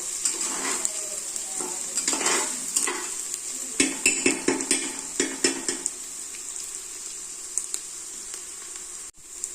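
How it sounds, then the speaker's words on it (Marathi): Sliced onion frying in a pan for a spicy village-style mutton curry, a steady sizzle with repeated scraping stirs and a run of sharp spatula clicks against the pan, close and alone. "आपला कांदा मिडियम भाजून झालेला आहे"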